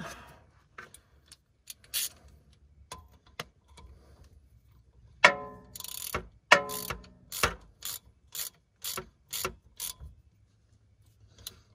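Hand ratchet turning a drain plug into the front differential of a Mercedes, with a series of crisp pawl clicks in short bursts and pauses, close and fairly quiet.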